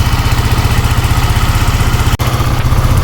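A vehicle engine idles during a battery check, a loud, close, steady throbbing rumble with a rapid even pulse and one brief dip midway, no voices over it.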